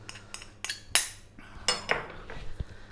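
Spoon clinking against a pot while kibe butter is stirred into Ethiopian beef bone soup (kikel), a series of close, sharp metallic taps and scrapes with brief gaps, no talk.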